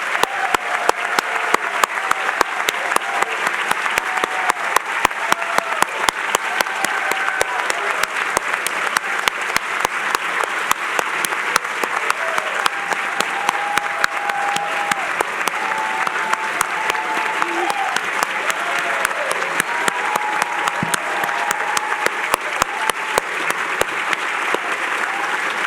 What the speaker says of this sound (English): So I think we should have a round of applause for our fabulous graduates